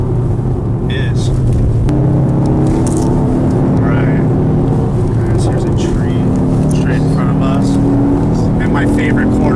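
A 2019 Mercedes-AMG GT 53 drives through a corner, its engine a loud, steady drone running continuously throughout with road and wind noise, while people talk over it.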